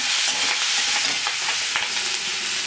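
Chana dal and urad dal fry in hot oil with cumin and green chillies in a pan for upma, giving a dense, close, continuous sizzle with light stirring scrapes.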